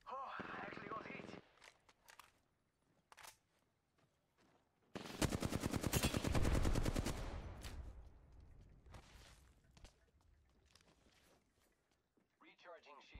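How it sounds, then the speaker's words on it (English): Gunfire in a ranked video game match: scattered single shots early on, then a long, loud burst of rapid automatic fire, followed by sparser shots and footsteps, with people talking over parts of it. "I am taking fire, friends."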